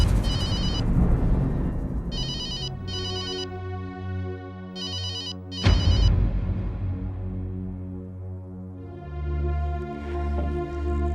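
A repeating electronic office-phone ringtone chimes in short bursts over a busy background of music and sound in a Hindi TV serial scene, with a sharp loud hit partway through.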